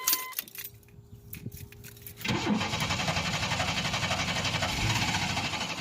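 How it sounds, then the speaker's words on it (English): A 1993 Chevrolet S10 Blazer 4x4 engine cranks over and over without catching, a steady rhythmic starter churn that begins abruptly after a quiet moment with faint clicks and jingling, loud and close with no talk. "it's not gonna start now without having some added fuel to it"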